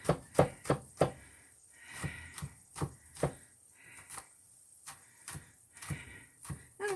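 Garlic being smashed and chopped on a board, heard as a run of sharp, close knocks in an uneven rhythm, with a few softer taps between them.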